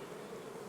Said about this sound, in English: Hang on a minute, we've got bees around the edges here.